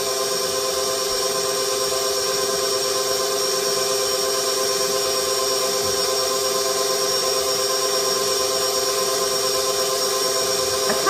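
An electric mixer runs at a higher speed, beating pumpkin roll batter with a loud, steady motor whine that holds unbroken throughout, close by and with no talking.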